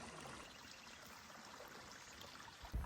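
Water trickles faintly and steadily during filtering on a Pacific Crest Trail hike near Lake Morena and Mount Laguna, a soft continuous wash ending in a brief low bump.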